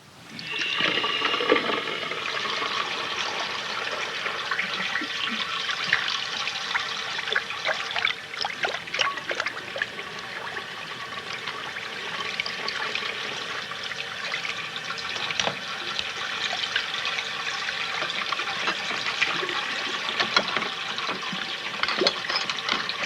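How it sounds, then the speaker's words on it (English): Tap water runs steadily and fairly close for the whole stretch, a continuous splashing trickle with small shifts in flow and occasional clinks, as when washing dishes by hand, with no talking over it. "It's exactly what you'd expect. It's running water."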